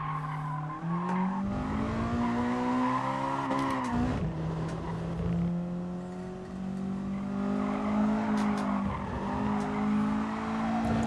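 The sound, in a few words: VTEC car engine revving and tires squealing in GT Sport video game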